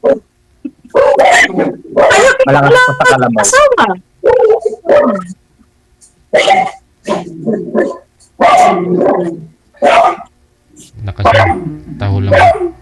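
A dog barks loudly in repeated bursts, with people talking in between and over the barks.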